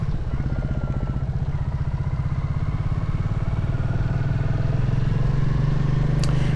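A Royal Enfield Classic 350 single-cylinder motorcycle rides out of a town in Alsace, its engine thumping in a fast, even pulse that rises slightly in pitch, close and loud with wind noise, with no talking.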